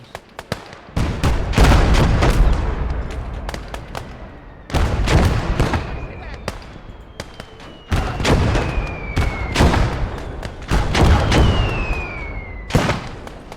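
Heavy 76 mm artillery in the video game Blood Red Snow fires loud booming shots one after another, each with a rolling echo, and a high whistling shell streaks through between blasts.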